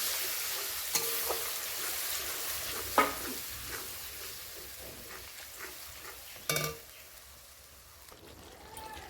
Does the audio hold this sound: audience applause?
no